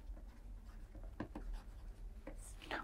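Marker strokes on a whiteboard during a lecture on flow regimes, a few short scratchy squeaks scattered over quiet room tone with no talking.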